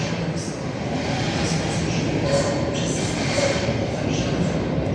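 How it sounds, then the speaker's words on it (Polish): An EU160 electric locomotive hauls the EIC Ślęża intercity train through Warszawa Centralna station, a steady rolling rail rumble with clattering wheels that fills the whole stretch, with voices talking over it. "Lokomotywa EU 160. Białystok, Wrocław Główny. jedzie Ejce Ślęża."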